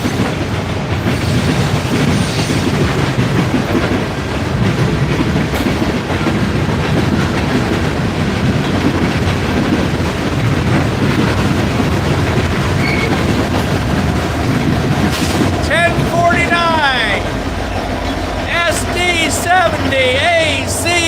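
Norfolk Southern 8099 in Southern heritage paint leads freight NS370 north past a trackside camera, a loud continuous rumble of wheels and rail clatter with squealing tones toward the end.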